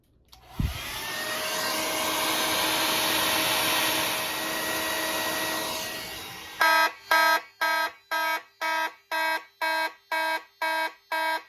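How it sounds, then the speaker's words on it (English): A hair dryer blows with a steady, loud whir for about six seconds, heating a detector on a Simplex 4002 fire alarm panel, then cuts off and gives way to a series of regular, evenly spaced electronic beeps. "We use the hair dryer."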